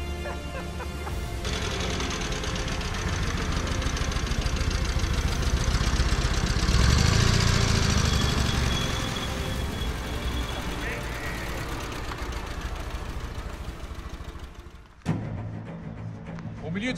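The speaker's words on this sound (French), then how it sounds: "Nous sommes sur une moto authentique de la Deuxième Guerre mondiale. Une moto de paras allemands." A World War II German paratrooper motorcycle engine runs steadily up close, a continuous mechanical drone with a swell in the middle, under someone speaking throughout, ending with a sharp knock near the end.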